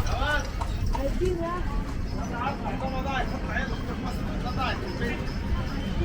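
Horse hooves clip-clop on pavement amid busy street noise and traffic in Luxor, Egypt, with people talking and a murmur of voices around.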